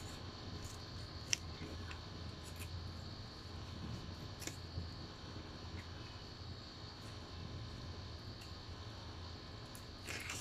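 A plant is cut with scissors, giving a few faint, crisp snips spread over a steady hum of room noise, close by and quiet.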